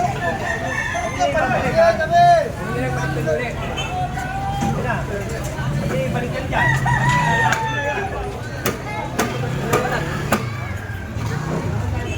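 A red fighting rooster crows a few times in a crowded urban neighbourhood, its calls rising over steady street and traffic noise while people talk nearby.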